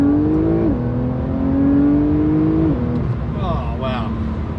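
A Porsche 911 992 Carrera 4S in Sport mode accelerates hard from inside the cabin, its engine note climbing steadily through two gear changes with a smooth rising drone, loud and close, with a voice briefly speaking near the end.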